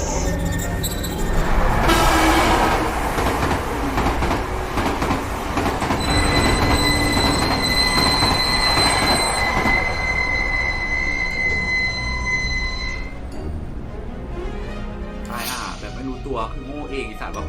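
Train running on rails in the Japanese horror video game Tsugunohi, a loud rolling rumble with squealing wheels and sustained high metallic tones, a voice talking over it throughout.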